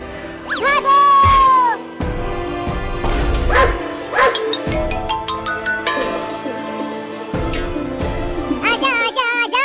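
Two puppies bark and yip in a comedy sketch, a string of excited high-pitched barks and whimpers mixed with voices and playful sounds, fairly close and loud.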